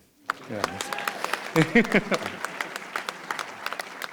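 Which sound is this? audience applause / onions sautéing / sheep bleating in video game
audience applause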